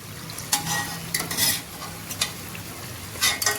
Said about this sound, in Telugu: మంచిగా తిప్పుకుంటూ కాల్చుకోవాలండి